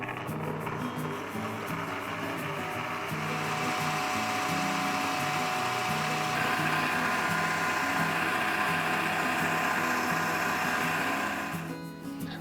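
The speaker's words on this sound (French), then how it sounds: "Dans une cuve très froide, fouettez la mascarpone avec le sucre glace et la crème liquide bien froide elle aussi." Electric mixer whipping mascarpone with icing sugar and cold liquid cream in a chilled bowl, a steady loud motor whir with slight pitch shifts that runs throughout and winds down at the end.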